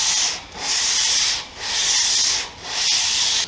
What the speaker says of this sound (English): Okay, now I'll soften these corners with a little bit of sandpaper.